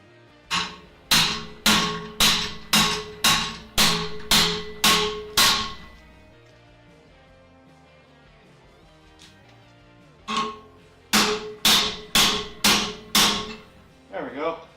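A metal workpiece clamped in a vise is struck by a hammer in a steady series of about ten sharp, ringing blows, then a pause and another run of strikes, close and loud.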